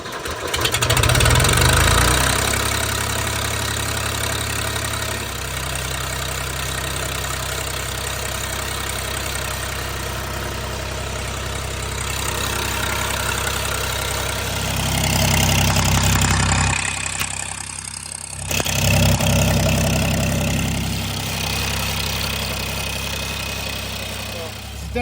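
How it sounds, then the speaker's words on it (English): An old Ford engine idles loudly with no muffler fitted, a steady close rough rumble that runs almost unbroken, dipping briefly near the end before resuming. "Definitely a little loud without the muffler on it"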